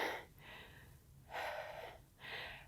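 Heavy breathing during a no-equipment full-body workout stretch, three long, close airy breaths drawn in and pushed out at a steady, unhurried pace, quiet and with no talking.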